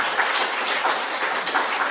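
A brief round of audience clapping during a church health lecture, moderately loud and even, with no talking over it.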